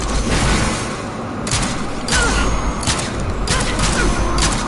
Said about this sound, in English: that's a guy and he's shooting at me